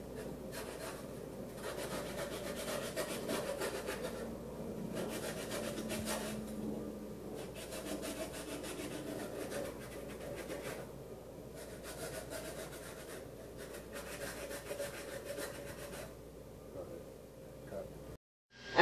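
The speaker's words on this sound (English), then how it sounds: "Probably going to be sharp, you're just going to sandpaper it." Sandpaper is rubbed around the sharp cut edge of a glass beer bottle, giving a continuous soft scratchy rasp with slow rhythmic strokes for about eighteen seconds, fairly quiet and close, before ending abruptly.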